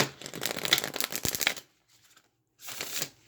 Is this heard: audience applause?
no